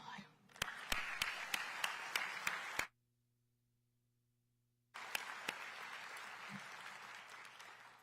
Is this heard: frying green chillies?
no